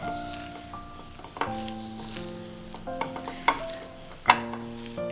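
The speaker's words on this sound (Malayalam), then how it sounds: "ഇനി ഇത് കൈ കൊണ്ട് തന്നെ നന്നായിട്ടൊന്ന് മിക്സ് ചെയ്തെടുക്കാം." Dough ingredients for a maida-based batter are mixed by hand, with soft wet squelching and a few sharper slaps over a steady tonal background.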